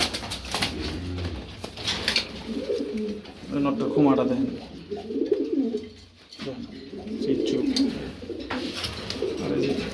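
Racing pigeons coo repeatedly in close, rhythmic rolling bursts, with brief wing flaps, while someone talks over them.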